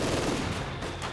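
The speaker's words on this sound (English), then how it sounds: "They're getting hit by mortars, getting hit by Maxims." Dense, continuous Maxim machine gun fire in Company of Heroes 2, a loud rattling stream of rapid shots blended with battlefield noise, with no pauses through the short burst.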